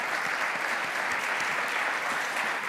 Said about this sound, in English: please join me in giving our panelists a big round of applause